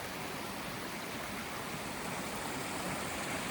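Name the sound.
small mountain stream flowing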